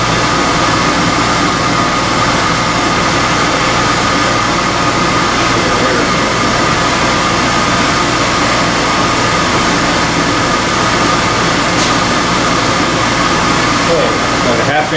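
A blast cabinet's fan runs steadily, a loud, constant broadband whir with a low rumble that holds unchanged for about fifteen seconds, close to the listener with no break.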